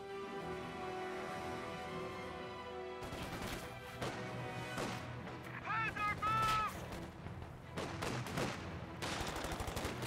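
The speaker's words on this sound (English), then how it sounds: "More rifle grenades there, and senior grenade in the garrison." Rifle grenades burst and gunfire crackles in the Company of Heroes battle. The blasts and shots come in scattered, fairly quiet clusters, with a voice talking over them.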